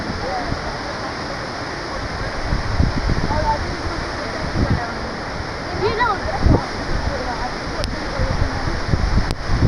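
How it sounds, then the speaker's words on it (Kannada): Hebbe Falls, a waterfall in Chikmagalur, roars as a steady broadband rush of falling water close by, continuous through the whole stretch, with voices talking over it. "ಅಂತೂ ಇಂತೂ ಫಾಲ್ಸ್ ಹತ್ರ ಬಂದೇ ಬಿಟ್ವಿ, ಹೆಬ್ಬೆ ಫಾಲ್ಸು."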